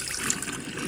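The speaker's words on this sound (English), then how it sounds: "we're going to just cover them with water" Water poured over bean seeds in a container, a continuous soft splashing, trickling pour heard close up and alone for under a second.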